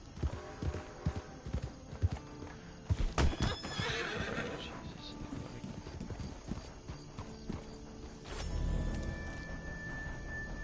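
A horse in Red Dead Online clip-clops in quick hoof strikes, then lets out a loud whinny near the middle, followed by snorting and shuffling hooves close by.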